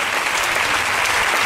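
A church congregation applauds in steady, dense clapping that fills the space evenly throughout, with no voices standing out above it.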